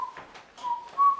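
A person whistles a short fragment of a tune in a staged reading, a few clear sustained notes with brief breaks between them, alone and without speech.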